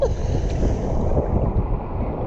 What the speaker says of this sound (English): It is hard to swim up through that current. The waves washing you back.